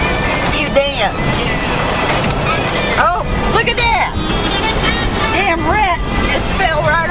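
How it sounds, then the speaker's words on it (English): Strong tropical-storm wind buffets a rag-top Jeep on Anna Maria Island, Florida, a steady loud roar with flapping and gusts throughout, while people talk and exclaim over it. "I don't know if you guys been in a Jeep with a rag top when it's windy."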